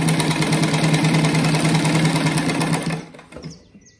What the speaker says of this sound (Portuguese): Aqui tem que costurar bem devagar pra fazer uma costura bem retinha.